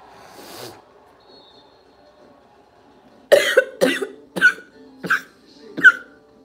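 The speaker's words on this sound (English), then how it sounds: "Why am I squeaking when I cough?" A man coughs five times in quick succession, each cough carrying a high squeaky whistle, after a faint breath at the start.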